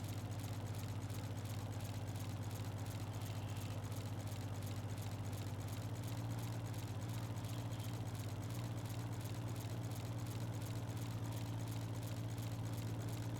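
A farm tractor engine runs steadily while mowing grass around an equipment shed, a constant low droning hum holding throughout with no breaks.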